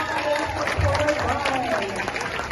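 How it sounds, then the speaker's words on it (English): Students and parents at a school gathering applaud the 8th grade class, a crowd clapping and cheering with voices mixed into the noise, steady and full. "Let's give a huge round of applause to our 8th grade class."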